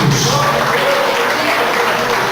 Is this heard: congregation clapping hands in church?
yes